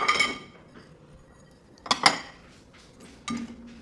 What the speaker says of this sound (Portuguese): E aí eu tiro a louça e deixo secar aqui fora, quando é pouca coisa também.